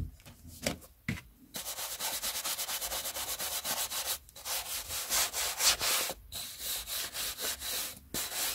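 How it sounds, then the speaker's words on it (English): Hardback books brushed and rubbed down by hand during cleaning: close, repeated rhythmic scrubbing strokes with a dry, papery rasp, steady back-and-forth bursts with brief pauses between them. "I'm thinking I'll just give these Hancock books a rub down as well while we're here, just so everything's had a brush while we're at it"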